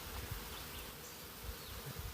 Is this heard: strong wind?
no